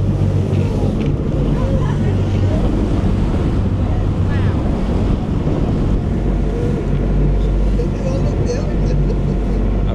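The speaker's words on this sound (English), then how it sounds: "We're getting a little bit of splashback from the waves." Choppy sea waves splash against a boat on a trip out of Harwich toward Felixstowe, a constant loud wash and slap of water mixed with heavy wind buffeting the microphone.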